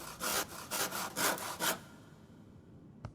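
Saw blade cutting through a thick rope in the video game Slackjaw: five rhythmic back-and-forth rasping strokes, loud and close, then near quiet with one short click at the end.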